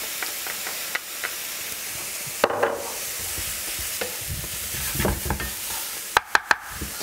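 Onion and garlic frying in a pan for macrobiotic mushroom paté, a steady sizzle broken by spoon stirring, scraping and several sharp clinks of utensil against pan near the end.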